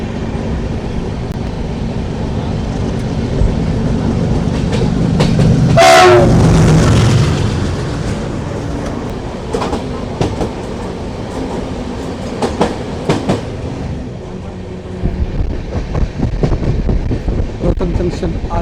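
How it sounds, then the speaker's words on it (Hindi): An oncoming train passes from the opposite direction near Rohtak Junction, its horn blaring loudly mid-pass before a rushing, clattering rumble of wagons continues, with a voice talking over it. "सामने से एक ट्रेन आते हुए"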